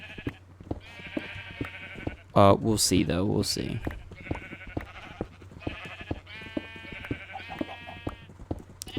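Sheep in Minecraft bleating repeatedly, several overlapping calls close by, with a louder burst in the middle while someone talks over them.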